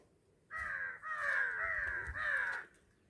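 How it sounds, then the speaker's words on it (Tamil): Crows caw near an old Shiva temple on Kunnamalai hill, giving four loud, harsh calls in quick succession, close by and with no other sounds. "காகம் இத்தனை கரைக்குது"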